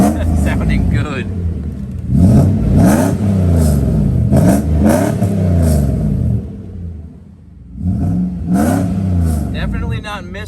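The engine of a Mercedes W140 with a suspected misfire is revved several times in repeated loud bursts that rise and fall back to a rumbling idle, with a slight stumble on the first rev and someone talking between blips.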